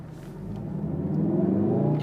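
2017 Volkswagen Golf R engine burbling at low speed, a low rumbling drone that grows gradually louder and deeper over a couple of seconds, heard from inside the car.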